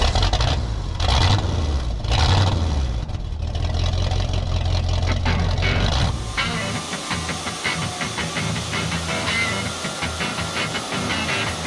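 A vehicle engine runs steadily while driving around a sawmill yard, with a broad hissing rumble that shifts midway to a rougher, rattling texture; no talk.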